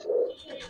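Pigeon cooing, a single low warbling coo that swells and then trails off into a softer second phrase, close and fairly quiet, from Giribaz pigeons kept in a loft.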